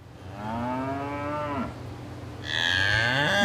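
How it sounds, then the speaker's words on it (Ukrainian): Two long, loud cow moos, one after another with a short pause between, the second higher and brighter. "Я чую му корову."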